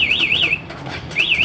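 An MP one-way anti-theft alarm fitted to a Honda Supra GTR motorcycle wails loudly in a rising-and-falling siren, breaks off briefly, then starts again, close by with no talk.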